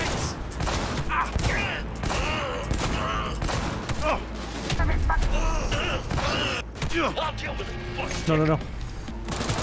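Gunfire in the shooter game Cyberpunk 2077, with dense rapid bursts crackling continuously under shouting and talk, loud and close with mechanical clatter between volleys.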